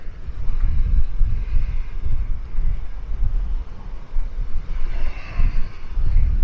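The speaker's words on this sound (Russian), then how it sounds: "Опять ветер сильнейший дует, ребят, извините." Strong wind buffets the microphone on a Maldives beach, loud rumbling gusts pulsing irregularly throughout with no voices.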